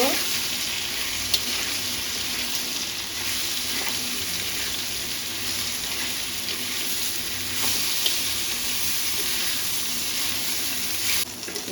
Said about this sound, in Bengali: বেগুনটা একটু নাড়াচাড়া দিয়ে নেব এক মিনিটের মতো একটু ভেজে নেব